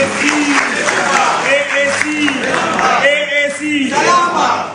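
A crowd at a political people's assembly in Kano claps and shouts in a loud, continuous mix of cheering voices and applause, with overlapping calls throughout.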